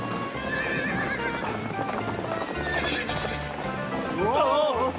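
A horse pulling a cart clip-clops steadily on the road and whinnies loudly near the end, heard under people talking.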